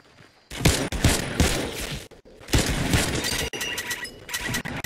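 Rapid bursts of automatic gunfire from an AK-style weapon in Fortnite, loud and close, firing in several sustained strings separated by short pauses.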